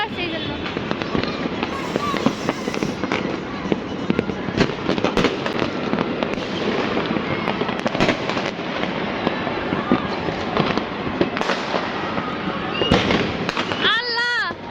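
Fireworks and firecrackers burst at midnight on New Year's in Dhaka city, with dense overlapping cracks and booms near and far throughout and voices talking underneath.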